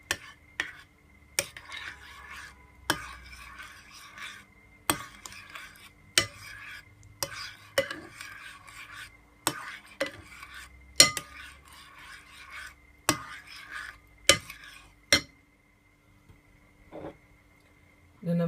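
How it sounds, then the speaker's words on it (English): A spoon stirs coconut milk into potato salad in a bowl, giving repeated sharp clinks and soft scraping strokes at a regular pace, close and clear, with occasional talk. "So I'm using half of a cup of coconut milk, and just stir it."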